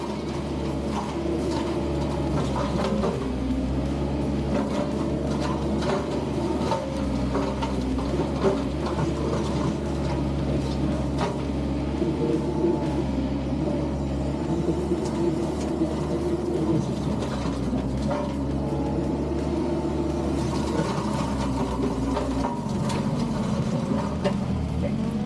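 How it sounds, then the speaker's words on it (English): A mini brush cutter mounted on a mower deck chews through big brush, giving a steady, loud mechanical drone with continuous grinding and rattling for the whole stretch and a slight drop in pitch near the end. "That's normal when you're running a big cutter."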